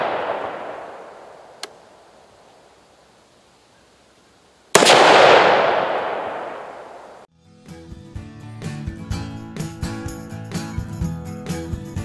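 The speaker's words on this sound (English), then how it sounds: "we're gonna shoot it straight onto the screen again" A gunshot fired at an iPhone screen at an outdoor range: a faint crack, then one loud, sharp blast ringing out with a long decaying echo, followed by music.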